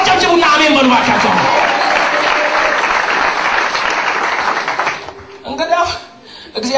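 A church congregation applauding during an Amharic sermon by a pastor, sustained loud clapping from a large crowd that fades after about five seconds into scattered claps and voices.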